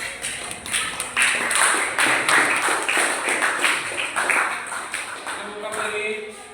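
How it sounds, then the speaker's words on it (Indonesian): An audience claps for a student group after their volcanic eruption simulation presentation, a fairly loud, steady patter of many hands that runs for several seconds and fades slightly toward the end. "kasih aplaus untuk kelompok 3"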